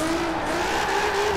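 A car drifting in Forza Horizon 4, its engine holding a steady high whine with a continuous tire squeal layered over it, loud and close throughout.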